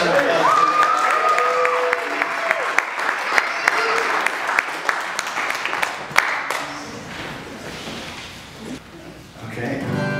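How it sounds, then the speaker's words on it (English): An audience gives a guest a round of applause during a live music session, a steady crowd clapping with a few louder close claps standing out, while faint voices and a brief tonal sound sit underneath and the applause thins near the end. "give him a round of applause"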